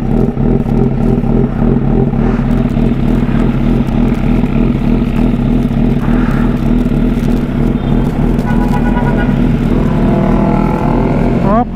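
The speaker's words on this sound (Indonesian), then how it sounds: "kita dengerin suara motor gua" A motorcycle engine runs loud and close, a constant buzzing drone with slight shifts in pitch, and voices can be heard over it.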